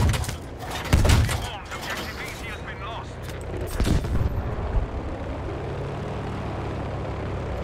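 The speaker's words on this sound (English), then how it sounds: "They're shooting with a rocket launcher" Rocket launcher fire in Battlefield V, heavy booming blasts near 1 and 4 seconds followed by rumbling decay, loud and close, with battlefield noise continuing underneath and voices talking.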